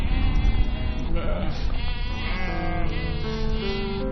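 Sheep bleat repeatedly, overlapping calls from several animals close by, some long wavering cries over a busy flock background.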